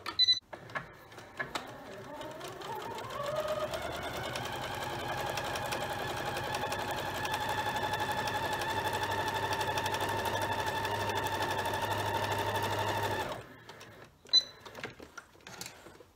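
A sewing machine runs steadily for about ten seconds, stitching strips for a quilt-as-you-go strip-pieced table runner, its motor hum rising at the start and cutting off cleanly, with small handling clicks before and after.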